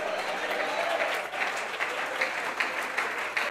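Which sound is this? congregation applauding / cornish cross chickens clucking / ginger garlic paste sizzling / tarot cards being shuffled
congregation applauding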